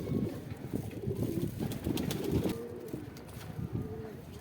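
A black high-flying pigeon coos in repeated soft, throaty bursts close by, with a low rumble underneath and some faint background noise throughout.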